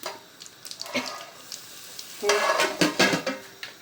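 Quiet at first with a few light clinks, then a burst of loud sizzling and spattering as the tempering for moong dal hits hot oil, crackling in waves.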